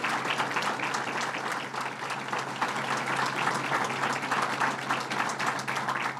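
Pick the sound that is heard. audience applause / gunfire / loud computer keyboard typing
audience applause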